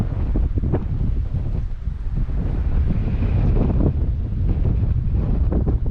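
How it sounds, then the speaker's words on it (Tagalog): Strong wind buffets the microphone continuously on a mountain road at Mt. Kilang, Apayao, producing a loud, gusty low roar with no other sounds standing out. "Medyo mahangin dito."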